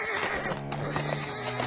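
A horse in an old-time radio drama gives a loud, close whinny with a few hoof clops beneath it, and the short neigh fills the whole moment.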